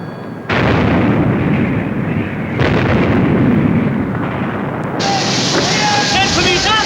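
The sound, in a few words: warship turret guns firing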